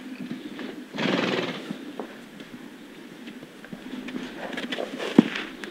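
A wild mustang gives a loud whinny near the start, then walks with scattered hoof steps and faint rustling as it meets commercial horse feed; close by, with no talking.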